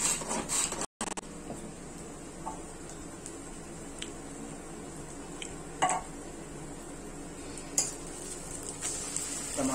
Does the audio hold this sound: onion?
yes